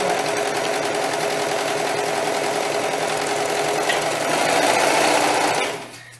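A sewing machine stitches doll dress seams, a close, loud, continuous whirring hum with rapid needle chatter, running steadily before stopping abruptly near the end.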